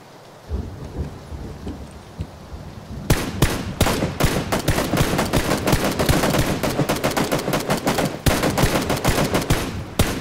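Rapid gunfire from a K98 bolt-action rifle and other weapons in the video game PUBG, a dense burst of loud, sharp cracks after a quieter opening, firing almost continuously for several seconds.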